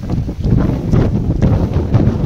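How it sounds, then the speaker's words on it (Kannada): Strong wind blows outdoors at night near a dam, buffeting the microphone with loud, gusty low roaring that surges and eases in uneven pulses, with no talking. "ಗಾಯ್ಸ್ ಏನು ಗಾಳಿ ಬರ್ತಿದೆ?"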